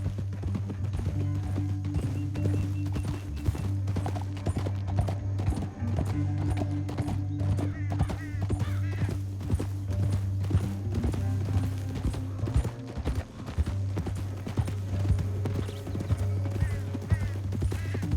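Hooves clip-clop steadily in a constant, brisk rhythm in Red Dead Redemption 2, with an occasional horse snort over a low rumbling background and no talking.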